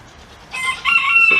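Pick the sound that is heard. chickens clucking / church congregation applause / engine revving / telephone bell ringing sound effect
chickens clucking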